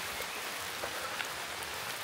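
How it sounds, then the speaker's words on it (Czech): Hail falls in the Czech countryside during a van trip near a lookout tower, making a dense, steady patter of small hard impacts that fills the whole stretch with no voices. "Padají kroupy."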